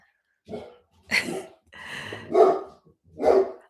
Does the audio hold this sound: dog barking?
yes